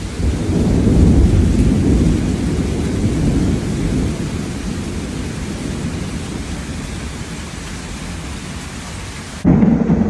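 Heavy rain pours down steadily in a dense, loud hiss with a low rumble underneath, continuing without a break throughout.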